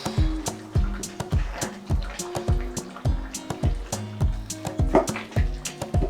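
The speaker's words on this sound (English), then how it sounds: "When I am stirring, I will see if I need this one. Stirring gently." A spoon gently stirs thick Ghanaian shito sauce made with shrimp and fish powder, giving rhythmic wet squelches and soft clicks about twice a second, close up and unbroken by talk.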